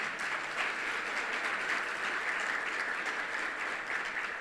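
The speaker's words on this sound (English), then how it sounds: "How about giving them a big round of applause" A crowd at a civic luncheon in an event center gives the hosts a big round of applause, sustained, full clapping from many hands, loud and steady throughout.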